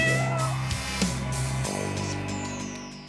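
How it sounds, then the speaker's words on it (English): A kitten at the Hazelton Animal Shelter meows, giving a few short, tonal, bending cries close to the microphone over a quiet background, with no talking. "A cute little kitty cat and puppy dog there for you."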